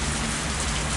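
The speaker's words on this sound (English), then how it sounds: "a heavy rain suddenly began to fall." Heavy rain in a video game pours down as a dense, steady wash of hiss and patter, loud and unbroken throughout.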